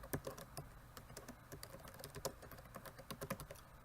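Rapid, irregular keystrokes on a computer keyboard as a terminal command is typed, close and fairly quiet, with no talking.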